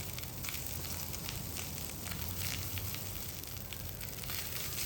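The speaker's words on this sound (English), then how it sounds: "on medium flame we will saute the garlic until they turn aromatic and golden brown in color" Garlic sautéing in butter over a medium flame, a steady soft sizzle and crackle, close but faint and continuous with no talking.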